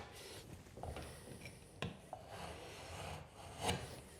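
A utility knife scrapes and rasps through drywall in short, quiet strokes, with a few sharper scratches standing out against a faint background.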